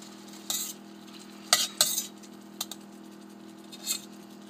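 Chicken breast frying in a pan on a home stove, a low steady hum under intermittent scraping and clattering bursts from stirring and turning, with faint sizzle between them.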